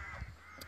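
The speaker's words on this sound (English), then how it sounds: "let's start with the shot of this crazy birds here" A crow gives a short rough caw on the banks of the River Bandon near Kinsale, a single brief call over steady low outdoor background noise.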